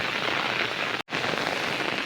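Heavy rain drumming steadily on surfaces in a rural rice-growing area, a dense continuous patter with a momentary dropout midway, no voices.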